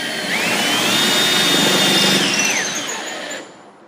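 A power drill bores a hole, its motor whining steadily at close range for about three seconds with a pitch that rises and shifts as it works, then spins down and stops.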